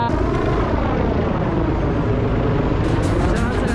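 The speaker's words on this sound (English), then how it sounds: "the heli's literally right there, hovering right there" A helicopter hovers close overhead on a New York City street, a loud, steady rotor and engine roar that continues without a break.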